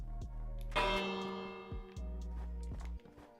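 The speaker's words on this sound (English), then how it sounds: "I'm gonna ring the bell every day." A bell in the Minecraft video game rings several times in a steady series of bright metallic strikes, each tone ringing on briefly before the next hit.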